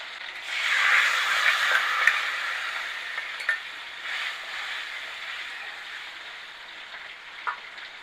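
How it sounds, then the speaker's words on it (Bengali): Onions fry in a pan while garlic is added for a lentil and vegetable dish, giving a steady close hiss with a few light clicks of a utensil, and no voices. "পেঁয়াজটা ভাজা হয়ে গেল"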